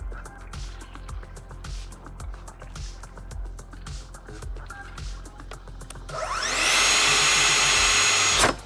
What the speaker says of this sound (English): I am going to purposely plunge too fast into the worktop to demonstrate the KickBackStop